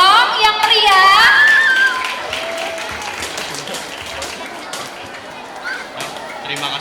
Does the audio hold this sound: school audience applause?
yes